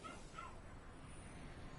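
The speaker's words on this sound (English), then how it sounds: "Neighbor's dog doesn't like that either." A neighbour's dog yips and whimpers in a few short, faint cries set back in the distance, over a steady ambient hiss with no talking.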